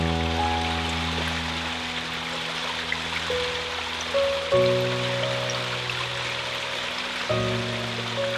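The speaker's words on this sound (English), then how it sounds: "everybody loves the sound of running water" Running water trickles and burbles steadily in an English rose garden in Northamptonshire, a soft continuous flow heard close by, with a few sustained tonal hums shifting in the background.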